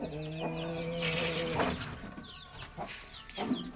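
Chickens clucking and murmuring nearby, with a few short calls and a higher bird-like cry over a quiet background.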